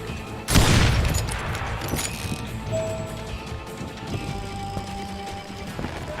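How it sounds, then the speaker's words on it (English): A loud burst of gunfire erupts in an Old West street in the shooter Call of Juarez Gunslinger, followed by scattered mechanical clatter and lingering ambient noise with faint distant activity. "They're shooting in the street."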